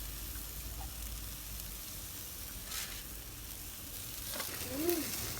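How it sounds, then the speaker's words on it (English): Chicken satay skewers sizzling on a grill, a steady low crackle and hiss throughout with a couple of brief scraping or clattering touches near the end, no talk. "we're just going to place them like so on the grill"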